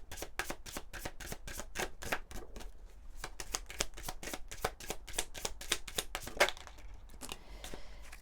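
Tarot cards shuffled by hand in a long series of crisp, rapid riffling slaps, close and fairly quiet, with a brief lull midway before the shuffling picks up again.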